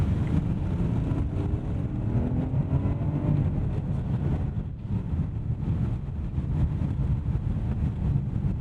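A 2016 BMW 740i with a ZF 8-speed transmission accelerates in sport mode, a steady close engine and road roar with a faint rising tone as it pulls through smooth gear changes, no one speaking.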